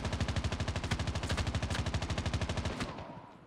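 Rapid automatic gunfire from a weapon in Call of Duty Mobile: a fast, evenly spaced burst of loud shots that runs for nearly three seconds, then stops abruptly and leaves a short fading tail.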